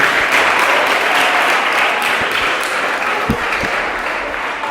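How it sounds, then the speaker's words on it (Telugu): A crowd of children at an orphanage gospel gathering claps for a child named Lawrence, sustained dense applause at fairly close range, with a few sharper claps near the end. "అందరూ ఒకసారి లారెన్స్కి క్లాప్స్, మళ్ళీ ఇంకొకసారి"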